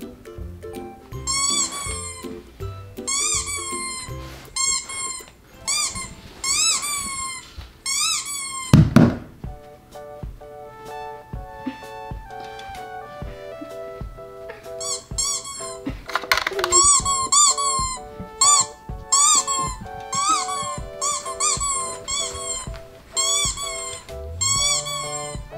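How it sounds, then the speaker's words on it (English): Repeated high-pitched squeaks from a dog's squeaky toy sound played by an Alexa smart speaker come in bursts, with occasional thumps and quieter gaps between. "dog squeaky toy."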